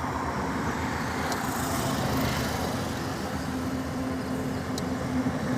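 Steady stream of cars and trucks on the Samruddhi expressway, a continuous broadband roar of tyres and engines at moderate distance with no clear gaps between vehicles.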